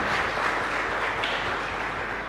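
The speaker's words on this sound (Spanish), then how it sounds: "Fuerte aplauso para el Señor" A congregation claps loudly and steadily at a live Catholic Mass in a chapel in Fernando de la Mora, the dense applause filling the space without pause.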